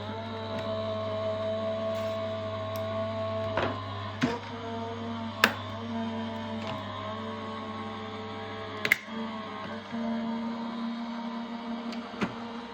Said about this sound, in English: Pop our cutting plate on the top, and then feed that through our machine.